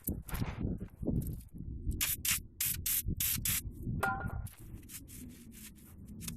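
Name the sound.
spraying carbon choke cleaner on car parts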